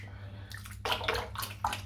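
A bar of woolfat shaving soap is sloshed in sink water, giving a few short wet splashes and swishes close by over a low background hum.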